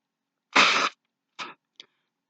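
A strong breathy nasal blast followed by two shorter, softer puffs, close and isolated against silence.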